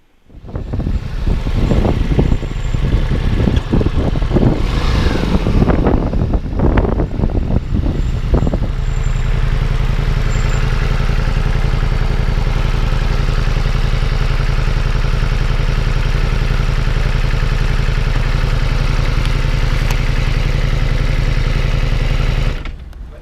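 A 2021 Ducati Multistrada V4S Sport fires up loud and close, blipping the throttle in sharp revs for several seconds before settling into a steady, droning engine note as it rides away.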